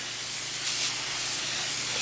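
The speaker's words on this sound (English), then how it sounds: "This is the moist side, so we're just gonna spray it down a bit, just like that." Spray bottle misting water onto the moist side of an isopod enclosure, a steady close hiss lasting about two seconds with a brief stronger burst near the middle.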